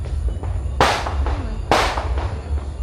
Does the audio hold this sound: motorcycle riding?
no